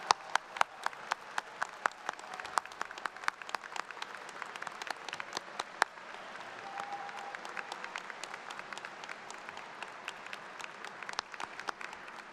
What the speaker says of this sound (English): Graduates, let's give them a big round of applause.